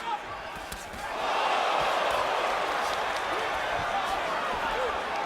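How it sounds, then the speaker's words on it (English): A boxing crowd in Atlantic City at the Sergio Martinez vs Paul Williams rematch erupts after a quieter first second, rising into a loud, sustained roar that holds steady to the end. "That exchange gets a rise out of the crowd here in Atlantic City"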